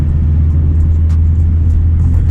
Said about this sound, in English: there's just a car riding quite fast on my ass